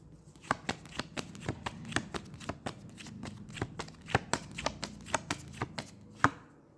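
A deck of tarot cards being shuffled and cards drawn, heard as a close run of crisp, regular slapping riffles and flicks, fairly quiet, with no talking.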